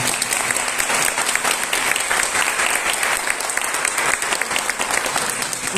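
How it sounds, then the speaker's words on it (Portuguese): A lecture audience at an academic week event claps steadily and loudly, a dense sustained round of applause with no break. "uma salva de palmas a ela"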